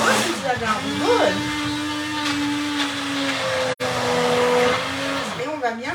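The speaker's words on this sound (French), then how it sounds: "Donc, mixeur plongeant." An immersion blender purées cooked carrots for a carrot flan, its motor holding a steady, close whine for several seconds before cutting out near the end.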